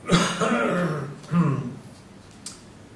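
A person coughs and then clears their throat, two rough bursts close by, followed by a faint small click.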